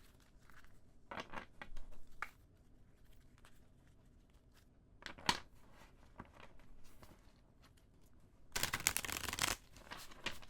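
Tarot cards shuffled by hand without bending, heard as soft papery bursts of rustling and flicking that come and go in short spells. The longest and loudest spell is near the end, quiet and close, with no talking.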